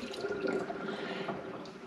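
Water filter element from a Berkey system being submerged and primed in a container of water, with soft trickling, dripping and bubbling sounds that continue steadily and close up, without talking.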